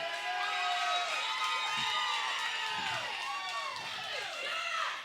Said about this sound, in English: Crowd cheering on the youngster Ember Lynn